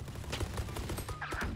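Rapid bursts of automatic gunfire from the tactical shooter Valorant fill the clip, with dense repeated shots and impacts running steadily throughout at close, loud level with no talk over them.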